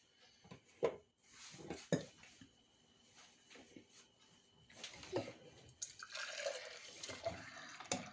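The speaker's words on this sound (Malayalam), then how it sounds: "ഇനി ഇത് നമുക്ക് ഒരു ഗ്ലാസ്സിലേക്ക് ഒഴിക്കാം" Freshly made apple juice from a mixer grinder is poured into a glass, heard as a liquid stream toward the end, after several close clinks and knocks of kitchenware.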